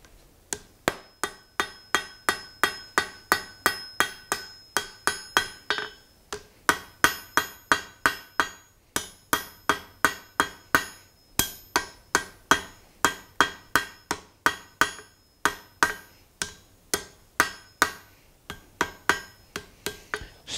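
A blacksmith hammers hot steel on an anvil to forge-weld and taper a poker, producing a long run of sharp ringing metallic blows in a steady rhythm with brief pauses between sets.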